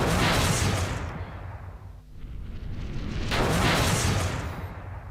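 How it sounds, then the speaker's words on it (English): A small explosion sound effect plays as a loud, full burst with a rumbling tail, fading briefly around the middle before a second identical blast swells up and continues to the end. "if I play this small explosion sound"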